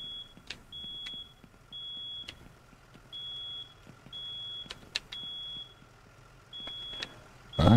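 A building alarm in the firefighting video game Into The Flames: a repeating high electronic beep in short, evenly spaced pulses, with sharp knocks and clicks scattered between and a loud thump at the end.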